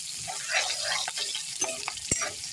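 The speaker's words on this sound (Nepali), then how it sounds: "प्याजलाई रातो हुने गरी भुट्ने" Onions frying in a pan until reddish, a soft sizzle broken by scraping stirs and a few clinks of a utensil, close and quiet.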